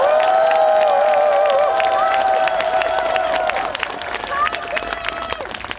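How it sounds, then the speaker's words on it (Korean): A large crowd at a national prayer rally in Korea claps steadily in sustained applause, mixed with cheering and raised voices that slowly fade a little toward the end. "박수를 한번 쳐주십시오."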